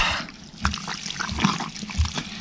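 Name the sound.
stream water flowing through pipes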